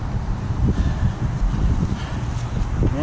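Gusty wind blows over the microphone outdoors on a cold day during a snow plow blade repair, a loud, continuous rumbling rush with no speech.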